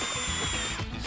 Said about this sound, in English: Take our drill, lock our shock in here.